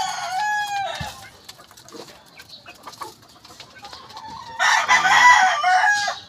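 Backyard hens and a rooster being readied for breeding: clucking and squawks at the start, scattered calls, then a loud rooster crow near the end, all close by with no talking.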